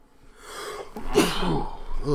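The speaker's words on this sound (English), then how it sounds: "I'm still sick, so a sneeze might be coming on here." A single sharp sneeze bursts out nearby after a brief rising intake of breath, followed by a short breathy exhale; no speech is heard around it.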